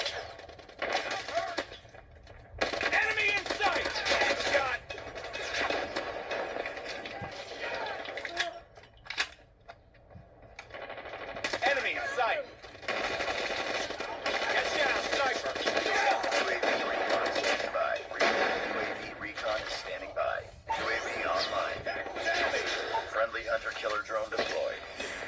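Rapid gunfire and explosions from Call of Duty Mobile, played against bots on an Amazon Fire Max 11 tablet, burst almost continuously for the whole stretch, with a few brief lulls and dense battle noise throughout.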